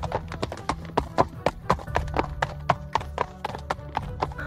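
Horse hooves clip-clop in a quick, steady rhythm as riders approach on horseback, each strike sharp and close, with faint background sound between the beats.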